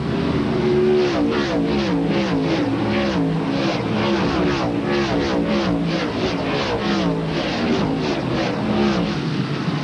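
A pack of NASCAR Winston Cup stock cars roars past at turn 7 of Sears Point Raceway in a 1995 race, loud continuous engine drone with repeated pulsing passes, close and unbroken.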